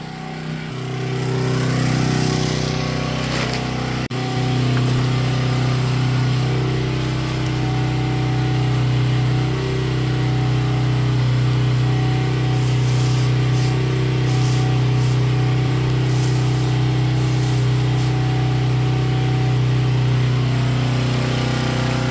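A portable generator runs outdoors to power chick brooder heat plates, a loud, steady, close engine drone that holds unbroken for the whole stretch with no voices.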